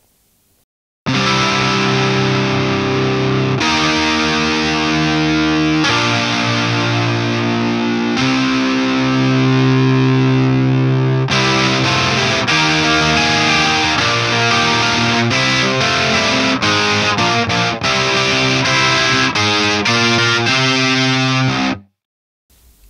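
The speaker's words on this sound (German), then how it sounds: "nächster Klang, 29. High Gain Net Bread" Loud, thick high-gain distorted electric guitar from the Native Instruments Electric Sunburst Deluxe, chugging through sustained power chords and riffs for about twenty seconds before cutting off abruptly.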